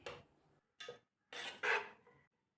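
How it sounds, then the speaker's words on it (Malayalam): Ghee rice being stirred gently with a ladle in a pot, giving a few soft scraping and rasping strokes in separate bursts, fairly quiet with no talk. "തവി കൊണ്ട് ഒത്തിരി കുത്തി ഇളക്കിയാതെ സാവധാനത്തിൽ വേണം ഇളക്കി കൊടുക്കാൻ."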